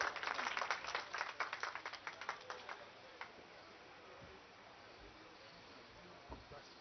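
Audience at a political party event for a Pakistan Tehreek-e-Insaf chairman gives a burst of quiet, distant applause that thins into scattered claps and fades into room noise.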